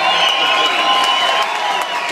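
A concert crowd in Dallas roars with cheering, whoops and applause, a thick continuous wash of many voices and claps filling the space from start to end, loud and fairly close.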